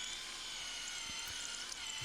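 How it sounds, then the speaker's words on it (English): A drill bores a hole straight through a flight-stick mount, producing a continuous, close, high whine at steady loudness, with a few faint low knocks underneath. "we're going to drill this out all the way through, so we have one continuous hole throughout the entire"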